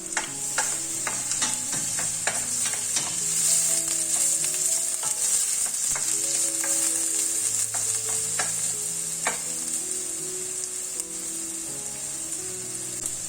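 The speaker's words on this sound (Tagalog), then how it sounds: "using a medium-sized pan, put a little bit of oil to saute the ginger and onion." Ginger and onion saute in a little oil in a medium pan, a bright continuous sizzle with a scattering of clicks and scrapes from stirring, close and steady, under faint background tones.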